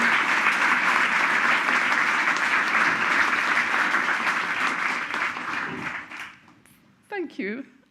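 Award-ceremony audience applauds standing honourees at a philanthropy awards event, dense sustained clapping filling the hall for about six seconds before fading, followed by a brief spoken voice.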